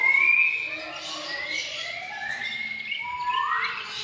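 A pet parrot gives a few whistling, rising calls and chirps at moderate distance, with voices talking faintly in the background.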